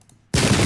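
Musket fire erupts in a Pike and Shot video game battle, with a sudden loud volley of massed gunshots breaking a near-silent moment and sustaining as a dense roar.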